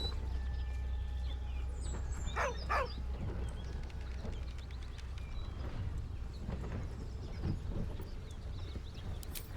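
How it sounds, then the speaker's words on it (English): A dog in Baldur's Gate 3, a mourning pet named Scratch, gives a brief, high, wavering whine at moderate distance over a low, steady ambient hum, with faint soft sounds around it. "With a deep, heartbroken whine, the dog bows his head"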